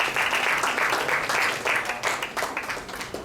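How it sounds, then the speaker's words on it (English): A small audience applauds at a talk on making printed circuit boards at home, a warm continuous wash of clapping that is fairly close and steady for a few seconds, then thins slightly. "a round of applause for Abhinav"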